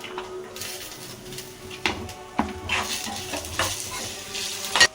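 Dry red chillies and garlic frying in oil in a pan, a continuous sizzle broken by a few scraping clinks of a spoon against the metal, close and fairly steady.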